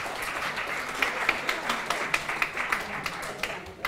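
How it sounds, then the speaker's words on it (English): Audience applause for the Cavan Social Club at a Positive Age performing arts night in a pub, a steady wash of many hands clapping with a few sharper claps standing out, sustained throughout. "So give them a big round of applause"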